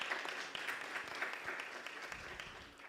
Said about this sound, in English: Let's give Sefako Makgatho a round of applause.